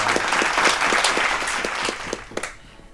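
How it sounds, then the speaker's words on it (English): An audience applauds guests arriving on a talk show, a dense wash of clapping with a few distinct claps standing out, fading away near the end. "Please give them a big round of applause."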